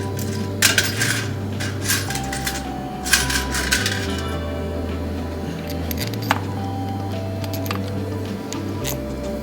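Metal bolts and parts clink and clatter sharply against a 4L60E transmission while fitting its valve body, several scattered taps over a steady low workshop hum.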